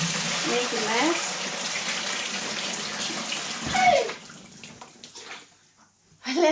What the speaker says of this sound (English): I left the tap on.